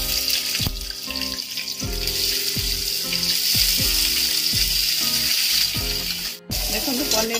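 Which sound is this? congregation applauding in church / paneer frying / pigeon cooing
paneer frying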